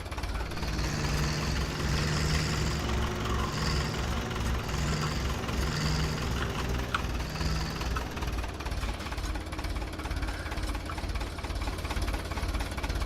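A noisy old tractor engine runs steadily close by, a continuous rough, knocking drone that holds for the whole stretch without pause.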